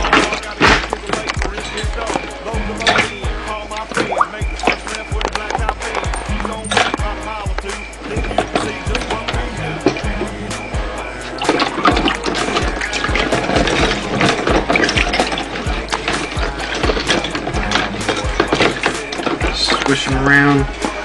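Shotgun parts being squished and swished around in water, giving a busy run of close sloshing, splashing and clattering knocks of metal against the container, repeated irregularly throughout.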